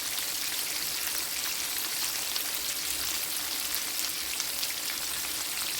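Fish fries in a hot pan over a lowered flame, a steady dense sizzle with fine crackling spatter that stays even and close throughout, with no voices.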